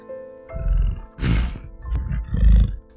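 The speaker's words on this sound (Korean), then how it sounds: "사자가 위협하듯 으르렁거렸다." A lion growls threateningly as an audiobook sound effect, a series of four deep, loud rumbling roars and grunts close up, with a sharp breathy burst in the middle.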